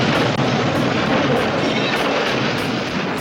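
A helicopter in film footage, a loud continuous roaring rumble with steady rhythmic rotor thumping throughout, close and dominant with no talk.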